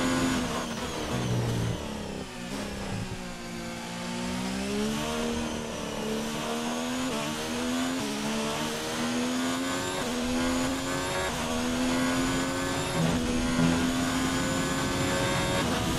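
A Formula 1 race car engine in the F1 2019 video game screams at high revs in eighth gear during practice in Shanghai, a loud, continuous whine with rising and falling pitch sweeps as it shifts and slows, heard alone.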